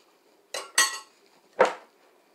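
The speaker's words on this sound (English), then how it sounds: "mix it all together" Grilled vegetables being mixed with cooked quinoa, heard as three sharp utensil clinks and scrapes against a bowl or pot, close and fairly quiet, with no talk.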